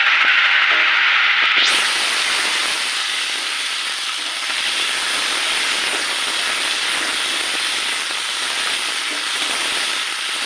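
An egg fries in hot oil in a pan, giving a loud, continuous close sizzling hiss that holds steady throughout with no talk.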